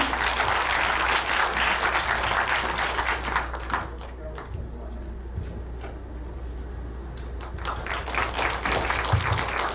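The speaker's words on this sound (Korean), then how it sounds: "큰 박수로 맞이해 주시기 바랍니다." An audience claps steadily, dipping briefly midway before the applause swells again, with a few louder claps near the end.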